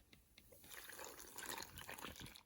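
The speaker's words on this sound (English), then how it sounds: "Now, pour your custard, which my assistant has graciously prepared," Custard is poured over bread cubes for bread pudding, a soft, quiet liquid gurgle and splash that swells in the middle and trails off into drips.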